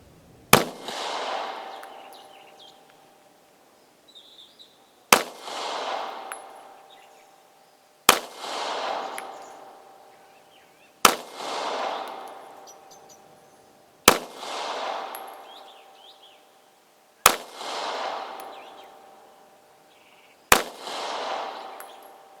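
A Krieghoff Luger pistol being test fired after repairs, with eight loud, sharp gunshots spaced a few seconds apart, each followed by a long reverberant outdoor decay.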